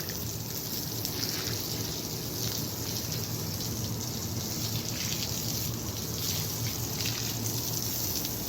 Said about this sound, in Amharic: በነገራችን ላይ ውሃው ደካማ ነው፣